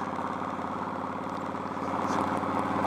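Motorcycle engine running steadily during a ride, a continuous close, fairly loud drone with a slight rise in level toward the end and no talking.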